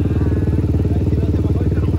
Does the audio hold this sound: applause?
no